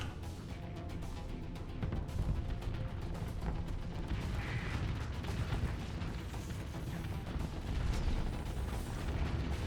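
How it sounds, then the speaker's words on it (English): A swarm of missiles slams into a ship in the space combat game Starsector, a dense, continuous barrage of rumbling booms and crackling impacts that stays loud throughout, with a few heavier swells. "it's like a swarm of missiles suddenly just ramming right up its rear end"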